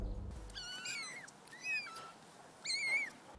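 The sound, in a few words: kittens meowing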